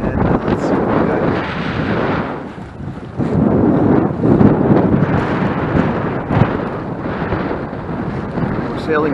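Strong gusty wind of about 20 knots buffeting the microphone while sailing a Tanzer 8.5 on the Richelieu River, rising and falling in loud roaring surges throughout.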